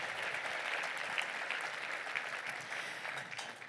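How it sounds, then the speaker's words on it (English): Sustained audience applause fills a luncheon room, a steady dense wash of many hands clapping at moderate loudness that tapers slightly toward the end, with no talk over it. "how about another round of applause for my fiance, Margot Downs"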